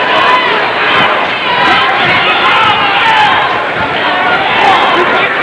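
Boxing crowd at the Tim Witherspoon vs Greg Page heavyweight fight roaring and cheering in a steady, loud wash of voices, under a commentator's speech.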